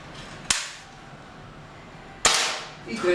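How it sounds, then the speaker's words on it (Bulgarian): Two crisp shots from a Gamut CFR IGT 5.5 mm air rifle on a chronograph test, about two seconds apart. Each is a sudden loud snap that fades over the quiet background. "И трети изстрел"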